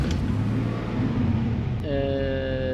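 A turbocharged BMW E46 engine cranks and catches with a steady low rumble, then settles into a smooth idle with clear harmonic tones, loud and close throughout.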